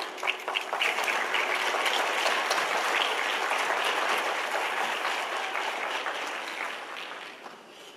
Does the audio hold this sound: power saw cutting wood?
no